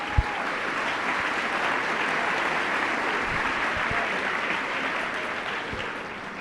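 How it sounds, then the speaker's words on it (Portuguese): A church congregation claps for the word of the Lord after a Gospel reading, producing dense, steady applause that fills the room and holds evenly before easing slightly at the end, with no voices over it. "dá uma salva de palmas para a palavra do Senhor"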